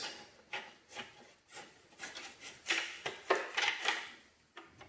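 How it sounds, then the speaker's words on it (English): A 5mm Allen key turning screws out of a Kawasaki Vulcan S 650, heard as a quiet series of close scraping, rubbing clicks in irregular bursts with no talking. "I'm using the 5mm right now to take the screws out of mine."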